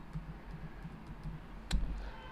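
Typing on a computer keyboard: light, scattered key clicks in a quiet room, ending in one sharper, louder tap, with no talking.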